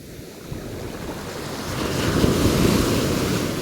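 Ocean surf surges onto the beach at Pondicherry, a broad rushing wash that builds louder toward the end, with wind buffeting the microphone and no voices.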